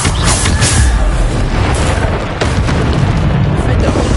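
The Bombarda spell detonates in Hogwarts Legacy, giving a loud booming blast with crackling bursts that fill the short stretch amid the ongoing game's clamor.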